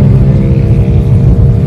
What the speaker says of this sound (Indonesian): Penting itu adalah suara dari mesinnya itu halus.